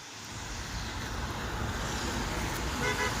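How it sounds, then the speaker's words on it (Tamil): Busy road in Ramanathapuram district during stormy, rainy weather, with a continuous wash of passing vehicles, engines and tyres rising slightly as traffic streams by; no voices. "வாகனங்களை பாருங்கள் வந்துக்கிட்டே இருக்கு"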